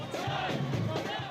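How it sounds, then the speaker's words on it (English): Outside the Ontario leaders' debate, Doug Ford supporters chant slogans together, a rhythmic swell of many voices for a brief moment. "The crowd gathered outside last night's Ontario Leaders debate chanted slogans, hoisted signs, and wore the colors of their political teams"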